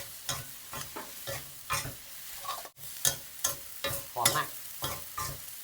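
Glass noodles with Chinese celery and cut spring onion are stir-fried in a wok over high heat, with a steady sizzle and rhythmic scraping strokes of the spatula, loud and close.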